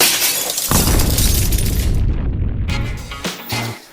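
Glass shattering loudly as a dancer steps through it, a sharp crash followed by a spread of breaking, tinkling debris over a few seconds, then a brief clatter near the end.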